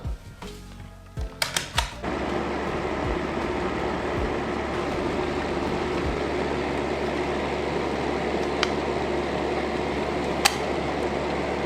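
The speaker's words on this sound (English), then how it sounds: "here I have a fan that should heat up this mold a little bit" A steady fan blowing on a hot glue injection mold hums and whooshes continuously at close range after a few sharp clicks and knocks at the start.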